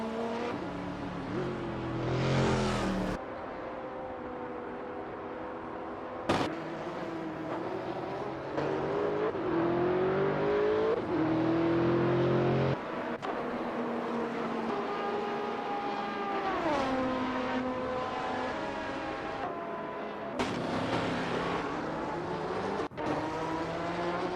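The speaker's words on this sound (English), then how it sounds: "We just witnessed some intense racing action in the simulator." Engines of several race cars in a racing simulator game at Interlagos, with GTR cars driven by AI, whine and shift pitch through gears, rising and falling continuously as cars pass, loud and steady throughout.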